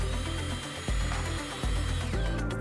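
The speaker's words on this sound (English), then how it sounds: "I'm using some self-tapping screws near the front of the guard to hold them in place" Self-tapping screws driven by a power driver into the swing arm guard of a Husqvarna FE350s dirt bike, heard as short whirring bursts of a cordless drill separated by brief pauses, close and fairly loud with no talking.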